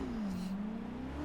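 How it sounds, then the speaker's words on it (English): A steady, humming car engine in the racing video game Forza Motorsport 6 drones with a slowly rising and falling pitch, close and constant throughout. "Listen to that engine roar."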